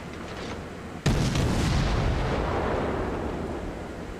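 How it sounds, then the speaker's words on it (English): A single heavy naval gun salvo booms from the battleship Fuso in a naval warship game, a sharp blast followed by a long rumbling roll that slowly fades. "I shift my focus onto the Fuso, who's firing at somebody else."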